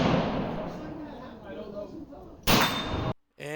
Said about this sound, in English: Can Terrence hit this 25-yard plate with this Kentucky rifle?